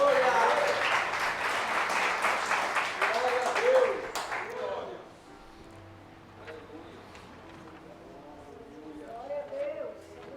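A church congregation claps in a lively, fairly rhythmic burst for about four seconds, then the clapping stops and a voice speaks over a quiet room.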